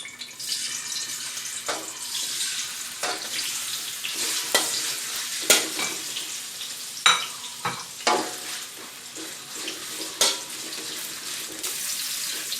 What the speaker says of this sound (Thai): ต้องทอดเห็นหอมก่อนนะคะ เห็นหอมนี่เราจะมาต้มแล้วต้องทอดซะก่อนนะคะ